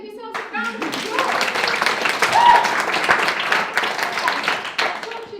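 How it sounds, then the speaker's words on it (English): A seated audience at a pitching skills talk claps together in a sustained burst of applause that holds steady for several seconds, dense and lively throughout. "Give yourselves a round of applause."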